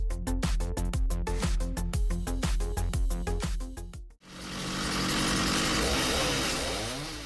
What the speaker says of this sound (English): This is a fairly common DIY firewood cutting machine made from a handheld chainsaw.